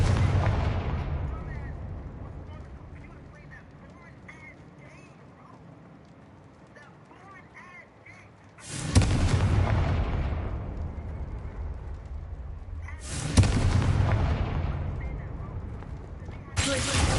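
Spell explosions from the Hogwarts Legacy video game, two sharp broadband blasts that each decay over several seconds, following a stretch of rumbling combat noise, loud and close.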